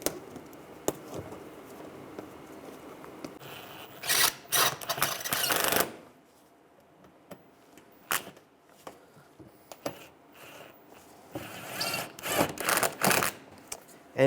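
Screws being tightened on a body panel of a 2010-2016 Cadillac SRX during A/C condenser replacement: close, dry ratcheting and tool clicks in irregular bursts, with louder busy stretches separated by quieter pauses and no talking.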